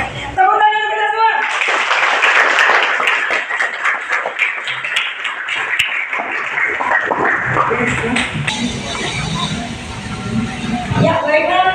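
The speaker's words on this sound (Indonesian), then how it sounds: "Tepuk tangan kita semua." A group of teachers at a workshop applauds together, with dense clapping that runs for several seconds at fairly close range and then thins out while a voice begins speaking.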